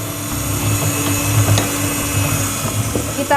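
An electric mixer beats Nutella cake batter in a steady, loud, close whirring drone that holds at an even pitch throughout, with no voices.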